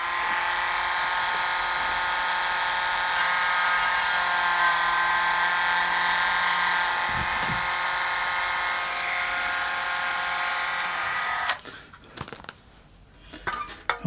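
A steady high-pitched electric drill whine, drilling solder out of a 0.7 mm hole in a model locomotive tender kit, runs continuously for about eleven seconds, then cuts off, leaving a few light clicks and taps.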